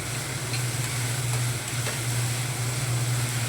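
Chopped onions frying in a pan as they are stirred, a steady close sizzle with a constant hiss and faint scraping, no voices over it.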